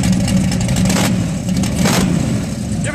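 A 1971 Camaro with open cutout exhaust, revved loudly nearby in a couple of short blips over a rough, rumbling idle.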